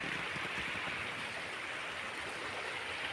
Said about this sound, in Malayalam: വെള്ളം വന്ന് പൊങ്ങുന്ന സ്ഥലം ഇവിടെയാണ്.